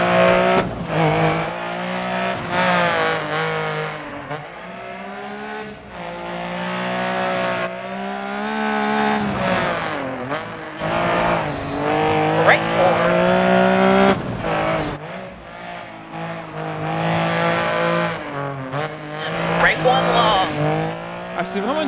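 A rally car races on asphalt in the video game DiRT 4, its engine revving up and down through gear changes with tire squeals, loud and close, while someone talks over it.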